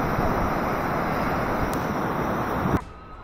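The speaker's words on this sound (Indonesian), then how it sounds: "dengan hembusan angin dan deburan ombak yang cukup besar" Strong wind and large waves breaking on a beach facing the Indian Ocean, a steady loud roar of surf and wind buffeting the microphone that cuts off abruptly near the end.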